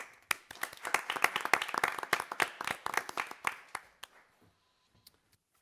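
Applause at a school governing board meeting: a burst of many hands clapping indoors for about four seconds, then thinning out to a few last claps and quiet.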